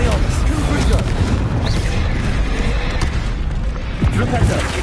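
Confrigo blasting spell from Hogwarts Legacy gameplay, a booming explosive burst amid continuous rumbling game noise and effects, with a voice speaking over it.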